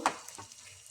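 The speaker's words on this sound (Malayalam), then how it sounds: "എല്ലാ പീസുകളും ഞാൻ ഇതിലേക്ക് ഇട്ട് ഒന്ന് ഇളക്കി കൊടുത്തു." Chicken pieces stirred in a frying pan, a brief spoon scrape over a steady close sizzle with no talk.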